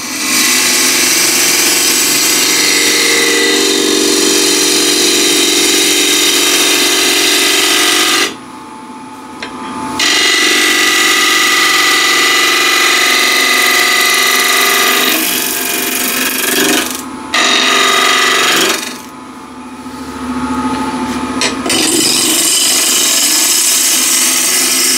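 A wood lathe spins while a gouge rides the bevel toward the center, giving a loud, continuous rasping cut that drops out briefly twice and resumes, with no talking.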